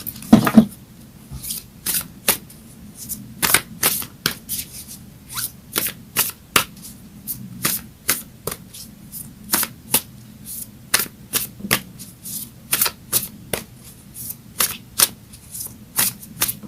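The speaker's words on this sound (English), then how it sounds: "Let's get a Moonology card now." Moonology oracle cards shuffled by hand, a long run of crisp riffling snaps and flicks in uneven bursts, close and fairly quiet with no talking.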